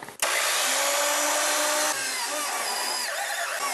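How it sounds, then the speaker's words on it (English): An old Montgomery Ward electric drill boring holes in aluminum for a custom heat shield, a loud sustained whine starting abruptly and running steadily, then dropping slightly in pitch partway through, with no talk. "I want to drill some holes."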